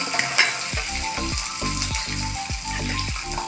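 Dried chillies and tamarind fry in a pan over steady, close sizzling, punctuated by rhythmic scraping strokes of stirring about twice a second.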